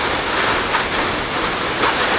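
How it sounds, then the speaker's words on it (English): Powerful water smacks against rocks in Idaho's Sawtooth area, a loud, continuous roar of churning water with a gust-like wash, heard up close and with no one talking. "just the sound of the water smacking the rocks is so loud"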